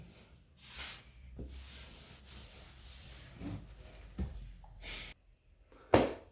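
Grout is rubbed over a repaired ceramic wall tile in a series of uneven scrubbing strokes, soft rasping sweeps broken by brief pauses, close and alone.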